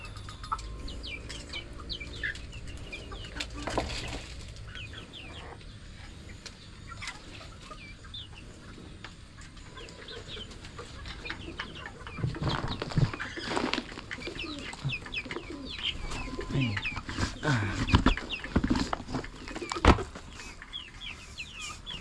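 Young chicks kept in a backyard pen peep and cluck continuously, with adult fowl and cooing pigeons around them and occasional louder calls and shuffling near the end.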